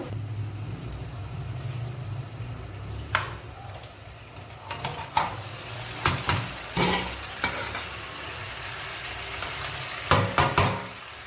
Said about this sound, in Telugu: ఇప్పుడు మనం ఉడకబెట్టుకున్న చికెన్ ఇందులో వేసేసుకుందాము